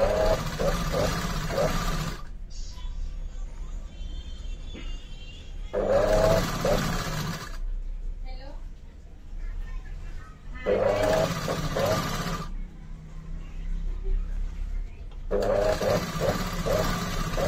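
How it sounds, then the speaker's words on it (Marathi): A sewing machine runs in several bursts while stitching a finishing seam along the edge of a katori blouse, its steady whirring alternating with pauses, under someone speaking nearby. "आणि आपलं आता एकदम इथे कडेवरती एक फिनिशिंगची शिलाई आपल्याला टाकून घ्यायची"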